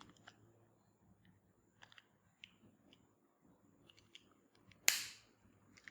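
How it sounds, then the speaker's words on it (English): The plastic battery casing of a smart car key snaps shut with one sharp, loud click after a series of faint fumbling ticks. "Then we have to close the casing."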